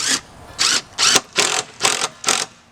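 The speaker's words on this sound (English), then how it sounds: "Take my drill, reverse, and then now that it's flush, I hit the tab so that it goes back the right way." A power drill run in reverse while building a rabbit nest box from scrap wood, giving six short, evenly spaced bursts, close and loud, with no talking.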